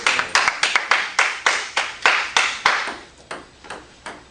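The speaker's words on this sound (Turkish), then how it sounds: "Yalandan alkışlamayın, yalandan alkışlamayın." A small audience claps in a burst of sharp, distinct hand claps, loud and close, at a table tennis semifinal in a spring tournament at Haramidere bus terminal. The claps come in an uneven rhythm, about a dozen over four seconds, thinning toward the end.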